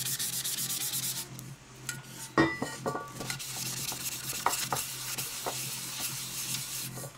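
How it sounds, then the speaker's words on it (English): Sanding block rubbed back and forth over a metal surface, a steady close scratchy rasp with irregular strokes and a few sharper scrapes, alone without any voices. "once I rub this down a little bit with the sanding block"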